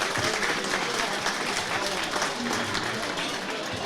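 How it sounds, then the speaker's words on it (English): Sustained audience applause and clapping fills a boxing club home show hall after a bout is stopped, steady and dense throughout with faint crowd murmur underneath. "keep the applause going."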